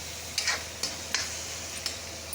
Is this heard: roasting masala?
yes